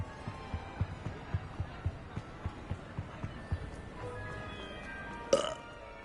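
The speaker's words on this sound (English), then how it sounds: "I love that I'm just burping." A character in Hogwarts Legacy burps loudly once near the end, a short throaty belch over quiet game ambience with regular soft thumping footsteps.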